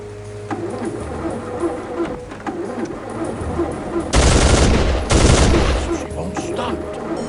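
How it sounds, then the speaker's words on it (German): Machine gun fire from the Soldier of Fortune 2 video game rattles in two loud, sustained bursts over a steady background of game ambience and shorter scattered shots. "Grab that machine gun."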